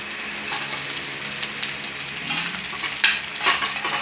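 Dried fish (tuyo) fries in a pan with a steady crackling sizzle, joined by intermittent scraping and stirring sounds and a few sharper spatters near the end, close and fairly quiet with no talk.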